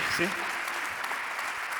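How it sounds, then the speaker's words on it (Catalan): Applause for an award recipient at a ceremony, a dense wash of clapping from an audience filling the short moment, with a voice briefly audible at the start. "Un fortíssim aplaudiment per Àlex Roca."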